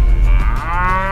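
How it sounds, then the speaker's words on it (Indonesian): A female cow moos loudly and close by in one long, deep, drawn-out call, heard alone with no talk. "ini dari sapi betina."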